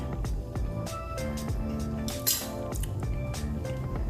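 A spoon clinks and scrapes against a pan while stirring sauce for lemon pepper chicken pasta, light metallic taps repeating over a steady sizzling background.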